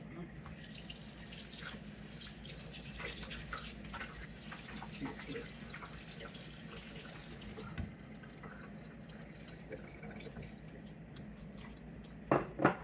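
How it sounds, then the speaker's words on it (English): Running tap water splashes steadily into a bowl as it is rinsed in a sink, a continuous close gush that cuts off near the end, followed by a couple of brief clinks of dishware. "let me rinse one of these bowls out"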